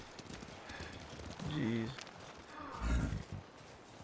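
Horses walking in the Ghost of Tsushima video game, their hoof clops and footfalls heard under game music and a brief spoken exclamation, with a couple of louder heavier steps.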